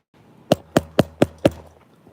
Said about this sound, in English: Yes, I knock with the phone.